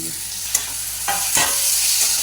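Tomato masala with turmeric and red chilli frying in a pan, stirred repeatedly, giving a loud close sizzle broken by a few sharp scrapes and clatters of the spoon, no speech.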